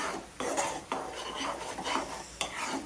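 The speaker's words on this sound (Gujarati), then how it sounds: "કન્ટિન્યુ આપણે હલાવતા રહેવું પડશે।" Mohanthal mixture of flour and milk stirred in a pan over a low flame: close, scraping strokes of a utensil against the pan, with a few sharper scrapes standing out over a steady rubbing hiss.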